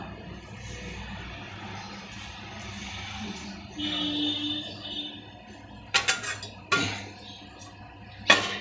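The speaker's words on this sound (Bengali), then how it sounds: "ঢেকে সেদ্ধ করতে দিয়েছিলাম এবার দেখি ঢাকনাটা খুলে দিলাম" A metal lid comes off a pot of steaming young jackfruit pieces, with sharp clinks and clatters near the end after a quiet kitchen background.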